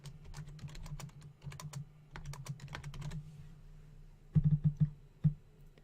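Computer keys are tapped in quick, uneven bursts while text is typed in Illustrator, with clear close clicks, a short pause, and a few louder final keystrokes.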